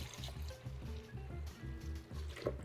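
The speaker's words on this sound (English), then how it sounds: "I'm gonna pour 2 cups of oat milk here." Oat milk is poured into a bowl for vegan Dutch baby pancake batter, giving a quiet, continuous liquid trickle and gurgle close by.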